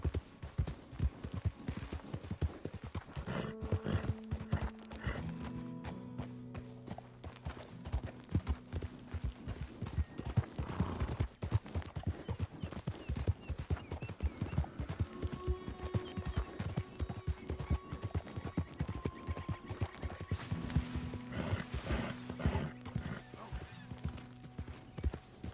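Horse hooves clip-clop in Red Dead Redemption 2, a steady rapid trot of hoofbeats running the whole stretch, layered under game music and ambient sound at moderate level.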